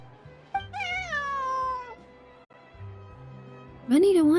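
A cat in the video game Genshin Impact lets out a long, clear meow, then a sharper rising one a couple of seconds later, over a low background of voices and game sound.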